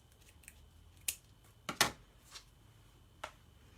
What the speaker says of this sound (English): Looks like I need to trim a little bit of this tail over here. Scissors.